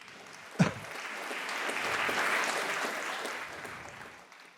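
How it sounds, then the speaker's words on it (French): Audience clapping at a charity auction, a sharp thump at the start followed by a swell of applause that builds to a peak midway and then gradually fades away. "Oui, vous pouvez applaudir."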